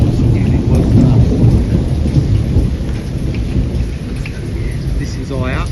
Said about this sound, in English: So when we get storm darners, we do get proper storms.